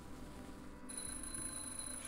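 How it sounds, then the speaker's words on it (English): Shrill electronic smoke detector alarm from The Journey Down video game, a sustained piercing tone that starts about a second in and holds steadily over a low background hum. "I'm just testing the smoke detector"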